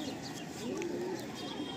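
Soft, low cooing from a Kalasabuj pigeon close by, a brief murmuring call over a faint background hum.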